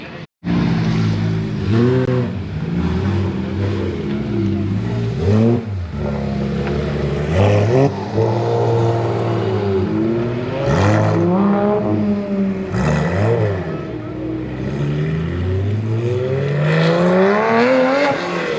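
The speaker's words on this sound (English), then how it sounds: "a Huracan Spider rolling in with the green calipers" Supercars at a meet revving hard, among them a Lamborghini Huracan Spider with green calipers rolling in, loud repeated engine revs rising and falling close by, with bursts of throttle and no talking.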